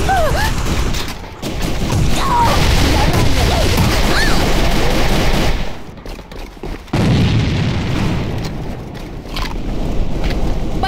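Grenade blasts and rapid gunfire in the shooter AVA on a pyramid map, dense bursts of shots and booms filling most of the stretch, with a brief lull near the middle before the firing resumes loud and close.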